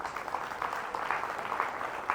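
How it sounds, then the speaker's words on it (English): An audience at a cruise ship show claps in a short, moderately quiet round of applause with fairly even, dense clapping. "let's give yourselves a huge round of applause for joining us here tonight"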